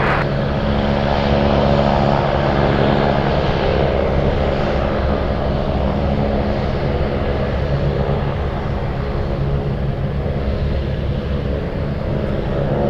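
A Douglas DC-3 propeller airliner takes off at Anchorage, its piston engines giving a loud, continuous droning hum with a throbbing propeller tone that holds steady for the whole stretch, no voices present.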